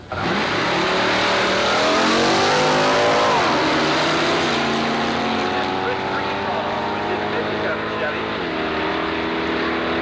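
Antique drag racing cars roar at full throttle at Carlsbad Raceway in 1990, a loud, continuous engine howl with rising revs that fills the whole stretch and carries on without a break.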